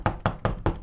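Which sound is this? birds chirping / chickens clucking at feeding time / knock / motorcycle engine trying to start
knock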